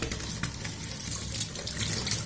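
Running tap water splashes steadily over hands being rinsed, a continuous close, moderately loud stream with no talk.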